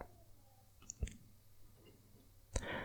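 A couple of soft, sharp mouse clicks while working in RETScreen Expert software on a building energy model, isolated and close against a quiet background.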